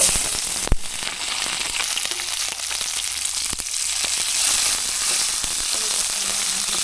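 Onion and tomato sautéing in a pan for Tamil egg gravy, a loud, continuous hissing sizzle with a couple of sharp knocks near the start and middle.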